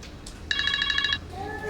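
A telephone rings with a rapid trilling electronic bell lasting under a second, clear against a quiet room, followed by a faint tonal beep.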